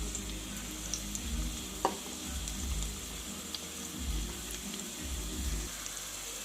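Sliced onion and chopped green chillies sizzle steadily in hot oil in a pan, a close, even crackle with soft stirring scrapes and no voices.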